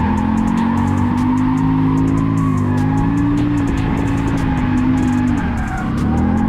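A car drifting on the ICAR track holds a loud, sustained engine drone with high revs and shifting pitch, with rapid ticking pops from the drivetrain and a brief dip as the throttle is lifted near the end.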